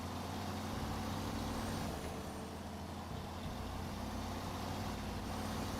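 Kenworth T880 heavy truck in the SnowRunner game, its diesel engine droning steadily at low pitch throughout with a faint hiss that fits an air brake release, no voices present.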